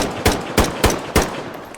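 Four evenly spaced, sharp gunshots in the Stalker Gamma video game, loud and close, each with a short ringing tail and no talking.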